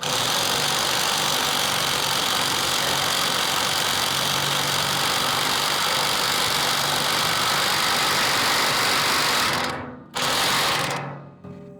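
An impact wrench hammers a nut tight on a riding mower blade in a long, loud, continuous buzzing burst, stopping briefly near the end before a final short run.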